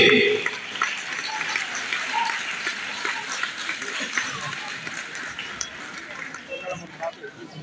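Applause from the audience at a prize distribution ceremony for an annual naat recital competition, a broad steady wash of clapping that holds for several seconds and slowly thins toward the end, with some voices mixed in.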